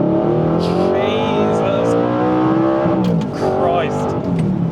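An Audi R8 with a naturally aspirated V8 making 415 brake horsepower revs hard, its rising harmonic roar loud and close through repeated pulls, with a man exclaiming over it.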